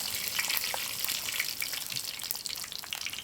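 Mustard seeds hit hot oil in a clay pot while a Kerala-style fish head curry is being cooked, giving a dense, continuous sizzling hiss with fine crackles and pops, close and steady throughout.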